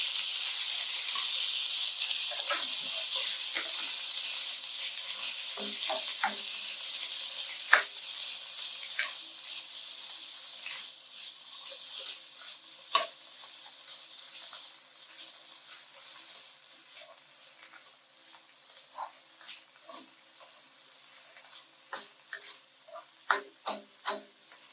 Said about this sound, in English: that should stir fry about a minute